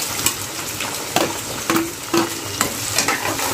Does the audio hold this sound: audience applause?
no